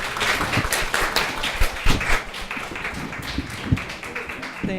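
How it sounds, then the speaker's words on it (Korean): Studio audience at a live public radio broadcast claps for a guest being welcomed on stage, a dense patter of hands at moderate volume with a few sharper claps standing out, steady for several seconds. "박수 부탁드립니다."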